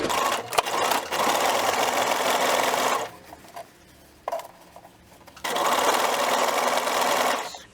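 A sewing machine runs a narrow hem on an elastic shirred dress, its rapid motor hum steady for a few seconds, pausing briefly with a few soft clicks, then resuming at full speed.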